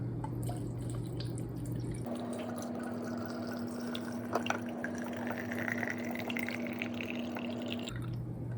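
Rum pours from a bottle into a mix of cinnamon, vanilla and banana for homemade spiced rum, a soft steady trickle of liquid lasting several seconds, close and quiet, with no talking.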